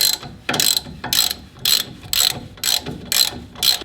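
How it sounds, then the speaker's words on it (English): A ratchet tightens a new castle nut on the suspension of a 2020 Tacoma TRD Pro, giving seven quick, evenly spaced bursts of clicking, close and crisp, with no talk. "Now I'm going to tighten this castle nut."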